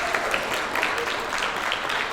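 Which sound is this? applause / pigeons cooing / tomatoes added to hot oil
applause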